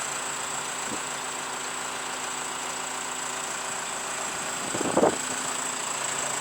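A forklift engine idling at a construction site for a warehouse and hangar, a steady close mechanical drone with a brief louder knock or clatter near the end and no talking.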